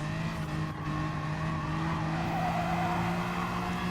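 Race car spinning out in the Gran Turismo racing game, a steady engine drone with sustained tyre skid noise running continuously and fairly loud throughout, no voices.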